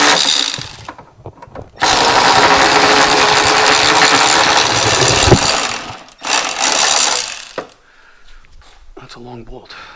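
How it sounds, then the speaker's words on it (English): Bolts being undone on the fuel tank of a 2004 Mustang with a loud power tool, which whirs steadily for several seconds in two close bursts before dropping to quieter clatter. "we're going to undo the bolts and see what happens"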